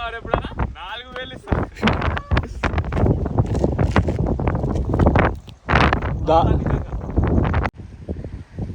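Wind blows at Kondapochamma Sagar Reservoir near Hyderabad as a loud, continuous rushing roar against the microphone, heard under a person talking throughout.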